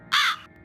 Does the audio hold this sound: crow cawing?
yes